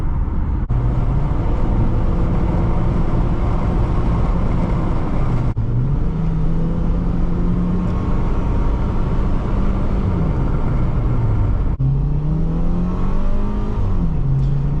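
A 2006 Subaru Forester 2.5 X accelerates hard from inside the cabin, its engine note climbing steadily through the gears with two brief dips at the shifts, loud and continuous with no talking.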